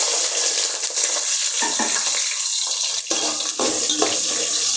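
Chopped onions fry in hot oil with green chillies for a village-style crab curry, a loud, close, continuous hiss broken by stirring scrapes, with no voices.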